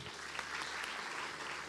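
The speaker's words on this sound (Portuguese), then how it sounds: "Salva de palmas ao pastor Léo." A church congregation claps steadily for the pastor, a dense, even wash of applause heard at moderate distance without voices.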